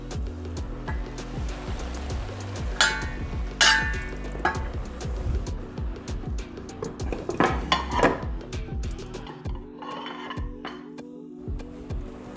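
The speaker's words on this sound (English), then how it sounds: "Time to add the okra." Okra goes into a pan of vegetables for a shrimp cake dinner and is stirred, with clanks and scrapes of a utensil against the pan over a steady hum, loud knocks near the middle and no talk.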